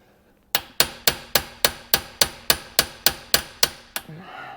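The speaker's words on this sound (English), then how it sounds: "when you're hammering, you kind of want to look at what you're hammering" Twelve sharp metallic hammer strikes on a pin in a Honda Civic shifter land in an even, steady rhythm, each ringing briefly before the next blow, loud and close.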